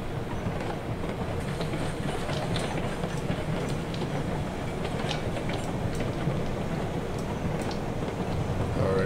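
A freight train runs along the tracks in the railway simulation game Railroads Online, giving a continuous rumbling, clattering roll at moderate volume with scattered metallic clicks and no speech.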